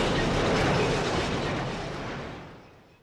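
Huge explosion demolishing a research facility building in the video game Resident Evil 0, a dense roaring rumble that swells loudly and then slowly fades away.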